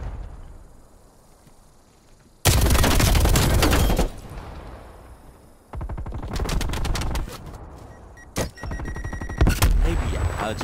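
Death Machine scorestreak fire in Call of Duty: Black Ops Cold War, loud sustained bursts of rapid automatic gunfire broken by short pauses, with other game shots and effects around them.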